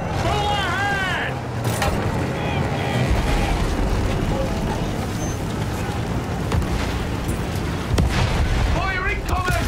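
Artillery explosions on a muddy battlefield in Battlefield 1, repeated heavy booms and rumbling blasts amid gunfire, with voices shouting over them.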